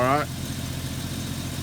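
A Jeep Cherokee XJ engine idles nearby with a steady low rumble, following a brief voice at the start.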